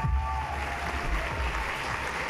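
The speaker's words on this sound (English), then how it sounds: "Can we have another round of applause for them, please?" An audience at a school pageant-style show applauds, a steady wash of clapping heard from a moderate distance with a faint low rumble underneath and no speech.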